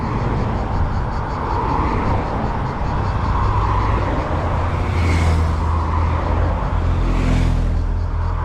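A continuous, loud rumble of many Citroën 2CV cars driving past at the 2025 2CV World meeting, with engine drones swelling as individual cars pass close by.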